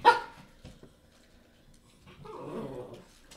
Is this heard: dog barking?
yes